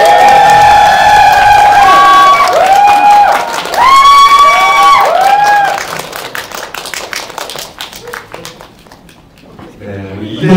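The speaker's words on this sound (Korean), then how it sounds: "큰 박수 부탁드립니다" A cinema audience at a Korean film screening and Q&A at CGV Yongsan greets the director and cast. Loud, high-pitched cheers and shrieks come first, then they give way to scattered clapping that fades quieter before swelling again at the end.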